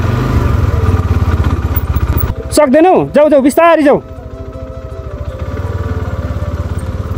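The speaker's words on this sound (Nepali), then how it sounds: "कस्तो हेभी पो छ त्यो बाइक त" A heavy motorcycle rolls slowly along a rough mountain route in Dolpa, Nepal. Its low, even engine throb runs under everything, and people talk loudly over it for a few seconds midway.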